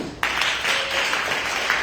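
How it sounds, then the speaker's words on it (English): A short burst of crowd clapping at an outdoor diaspora sports day in Boston, USA, starts abruptly and continues evenly, a scattered patter of many hands at moderate volume. "Let's give him a round of applause."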